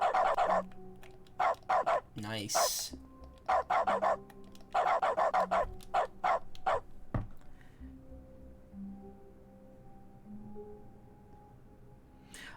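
A dog barks in the dog mode of The Stanley Parable: Ultra Deluxe, with loud clusters of sharp barks and yips over several seconds, then a quiet stretch of soft sustained tones. A voice speaks briefly.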